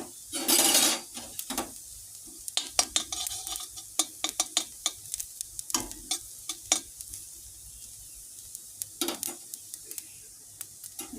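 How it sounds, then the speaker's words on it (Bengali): Black cumin and cumin seeds frying in hot oil, crackling and popping in quick irregular bursts, with a loud scrape near the start and utensil clicks against the pan scattered throughout. "কালো জিরে আর জিরে ফোড়নটা ভেজে নেব"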